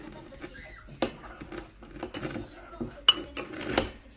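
Glue and shaving foam slime being mixed in a bowl, irregular soft clinks and scraping taps of a utensil against the bowl, fairly quiet, with faint talk.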